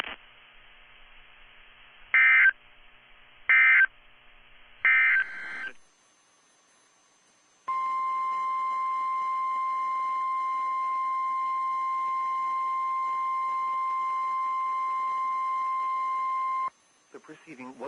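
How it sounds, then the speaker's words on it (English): A National Weather Service warning alarm tone test, a loud steady electronic tone held for about nine seconds. It follows a few short bursts of data-like beeps over faint broadcast audio and ends in near silence. "The preceding was a test of the National Weather Service warning alarm tone."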